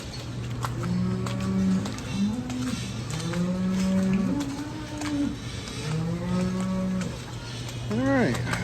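Fresh Zuri dairy cows low in a barn, several long, bending moos one after another over a constant low mechanical hum, with a louder, rising moo close by at the end.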